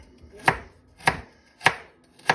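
A knife chops through a carrot on a cutting board while dicing it finely, four crisp, evenly spaced cuts about half a second apart, close and clear with no talking.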